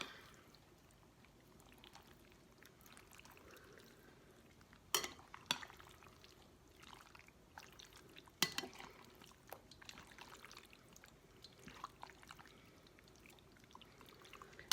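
Beef strips for jerky being tossed in marinade make soft, wet squelching and sloshing close by, broken by a few sharp knocks of the bowl or container, with no talking.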